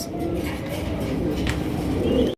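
Soft, throaty cooing from pigeons repeats close by in a low, rolling murmur over steady background noise, ending abruptly.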